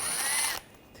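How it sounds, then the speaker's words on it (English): A ratchet with a T20 socket works on screws holding a panel of a 2013-2022 Buick Encore during AC condenser removal: a steady, close mechanical whirring that runs for about half a second, then cuts off to near quiet. "Now you want to remove these two screws on each side. Use a T20 socket."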